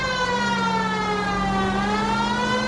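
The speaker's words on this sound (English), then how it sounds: "If you use the siren, maybe those metal things in front of you called cars would know you're in a hurry." A wailing police car siren in the 1940s Los Angeles detective game L.A. Noire, a steady loud tone with a slowly rising and falling pitch over engine rumble, no voices.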